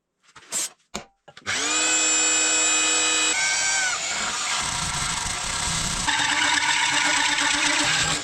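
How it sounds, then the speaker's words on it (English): A power drill whines steadily and loudly while a hydraulic tree shear is being built from scrap metal, starting after a few brief knocks and running continuously with its pitch shifting under load. "The drill is inside the hole."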